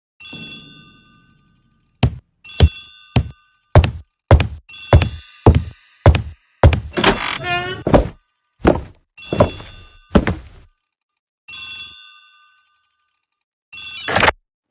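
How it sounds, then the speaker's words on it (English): In the video game Agatha Christie: The ABC Murders, an old telephone rings in a hall. Its sharp bell bursts come in an uneven string, with stretches of silence between, and one last ring arrives after a pause. "The telephone in the hall is ringing."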